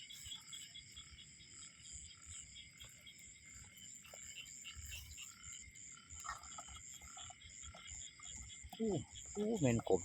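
Frogs croak in a wet outdoor night setting among steady insect and cricket hum, with a few louder calls bunched near the end and someone talking faintly throughout.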